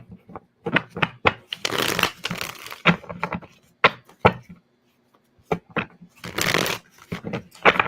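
A deck of cards being cut and shuffled by hand, a run of crisp, close riffling and slapping bursts in uneven rhythm with short pauses between, no voices.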